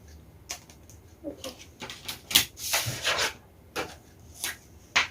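A ruler and marker drawing lines on shirt fabric on a cutting table, irregular soft scrapes, rubs and light taps that come and go, close and fairly quiet.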